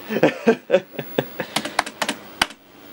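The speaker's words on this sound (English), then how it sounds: "I just realized I need a keyboard to tell it to boot." Keys clacking on a computer keyboard during testing of a Tandy 1000 SX: a dozen or so distinct, close keystrokes in an uneven rhythm, with nothing else heard.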